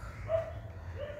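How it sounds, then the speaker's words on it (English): A single dog barks briefly nearby amid steady background noise in a busy household setting in India. "dogs bark,"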